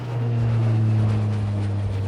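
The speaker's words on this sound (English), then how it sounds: "And the airplanes all the time flying above." A fixed-wing airplane flying overhead in a crowded outdoor spot: a steady droning engine hum with a clear low tonal whine, constant and fairly loud throughout, with no talking.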